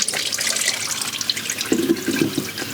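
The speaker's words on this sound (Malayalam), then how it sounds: "വെള്ളം താഴേക്ക് ഇച്ചിട്ട് വീഴുന്നുണ്ട്." Water running and dripping down from a self-watering pot used for media-based hydroponics, a close trickling splash with brief drips near the end, no talk.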